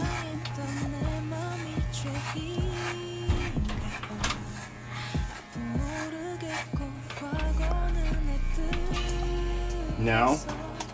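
Hair clippers cut lines into a fade haircut, a person trimming their own hair. The clippers give a nearby electric buzz in on-and-off bursts, with handling noises between them.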